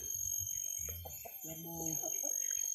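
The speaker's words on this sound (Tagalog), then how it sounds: "Ay, ang laki ng manok." A chicken on a farm plot gives a few short clucks and a drawn-out call, fairly close over a high steady insect-like whine, with faint background voices.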